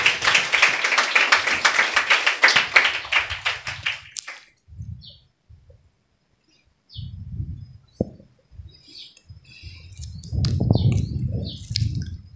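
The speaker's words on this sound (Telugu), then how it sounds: "మరొకసారి చప్పట్లు కొట్టండి." Church congregation at a Sunday worship service clapping in a rapid burst of applause that lasts about four seconds and then stops, followed by quiet stretches with scattered taps and low murmuring.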